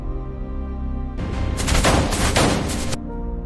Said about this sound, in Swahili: Risasi zilianza kupenya ukuta wa mbao.